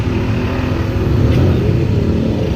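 Cars on a highway below, a continuous close rumble of engines and tyres with a rising pass near the middle, loud and steady without speech.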